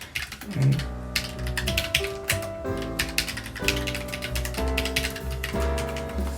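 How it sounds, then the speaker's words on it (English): Rapid typing on a keyboard with a Vaydeer wrist rest, a busy stream of close, clicky keystrokes over a low background tone. "let's do a typing test"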